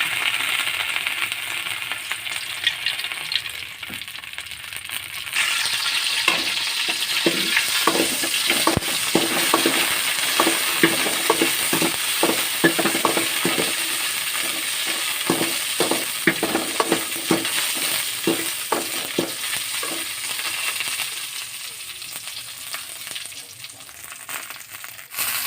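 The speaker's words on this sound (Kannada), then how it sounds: "ಈಗ ಒಂದು ಮೆಣಸು ಹುರ್ಕೊಳ್ಳುವ" Chillies frying in coconut oil in a pan, a sizzle that starts quiet and swells after a few seconds into a continuous crackle with scattered stirring clinks and pops, close and steady throughout.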